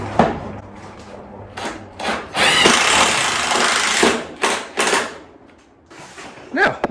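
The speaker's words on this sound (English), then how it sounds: "I'm going to have to put a self-tapper in over there" A self-tapping screw is driven into the hood of a VW Baja Bug. Short power-tool whirs come in bursts with metallic clunks and handling knocks between them, close and moderately loud.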